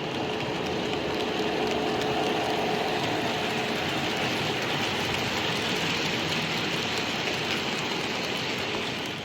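A Class 730 train at Northampton Station: a loud, steady, broadband rushing rumble holds for the whole stretch, close by and unbroken, with no voices.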